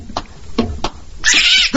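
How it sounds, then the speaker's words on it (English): A cat yowls in a radio drama scene, with a few short thumps and footfalls before a loud, rising caterwaul that is harsh and close. "It's a cat! A cat!"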